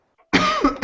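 A single harsh cough bursts out after a brief near-silence, loud and close, with a raspy throaty tail.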